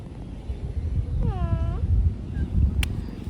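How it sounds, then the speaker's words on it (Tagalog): A cat gives a single clear meow with a falling pitch, close by, over low outdoor rumble and wind. "The kitty wants to go with that."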